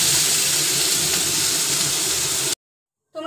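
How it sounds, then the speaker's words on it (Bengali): Chopped onion frying in a pan for mutton keema, a steady loud sizzle and hiss that cuts off abruptly, then briefly resumes. "পেঁয়াজটা এবার লাল হওয়া পর্যন্ত আমি একটু ভেজে নেব।"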